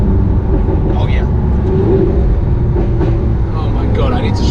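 A Lamborghini Aventador S engine growls in a steady, loud, deep rumble from inside the moving car, with people talking over it.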